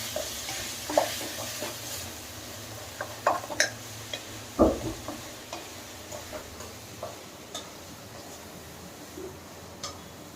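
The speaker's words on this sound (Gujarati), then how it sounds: "હવે બધું બરાબર મિક્સ કરી લેવાનું" Okra curry stirred in a pan, a soft sizzle under scattered clinks and scrapes of the spoon against the pan, one sharper knock midway, close and without talk.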